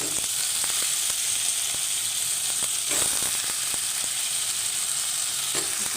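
Eggplant pieces fry in oil with curry leaves in a North Karnataka-style dish, a dense, steady sizzle up close with periodic sharp ticks and scrapes from stirring.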